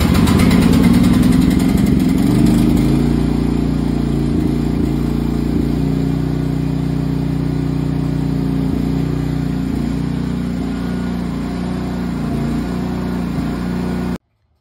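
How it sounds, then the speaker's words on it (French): An LT-1010 mini excavator engine, choke pulled and throttle set to a third, turns over and catches, then settles into a loud, steady, rumbling idle close by that carries on until it cuts off at the end. "Voici la procédure de démarrage pour la mini-pelle LT1010"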